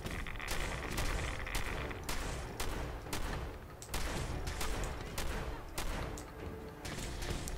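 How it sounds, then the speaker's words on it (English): Rapid shotgun fire in the Fallout video game, a dense series of booming blasts with irregular rhythm over continuous rumbling battle noise. "apparently I can't hit anything with my shotgun today."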